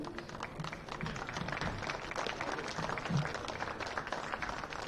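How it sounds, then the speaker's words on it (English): Crowd at a college baseball game applauds for graduating seniors, a moderate, steady patter of clapping from a distance lasting the whole stretch with a faint voice underneath. "Let's have a round of applause for our seniors."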